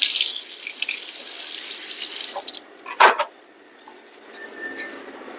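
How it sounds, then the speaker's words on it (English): Celery rinsed under a running kitchen tap, a steady hiss of water with a splashy burst near the start, a brief clatter about midway, then the flow softening to a quieter trickle. "just rinse his celery because it does not look clean"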